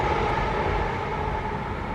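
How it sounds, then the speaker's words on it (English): A train crossing a bridge in Smethwick, Birmingham, a loud steady rolling rumble heard close by and unbroken for the whole stretch, with no voices over it. "Going to let the train past."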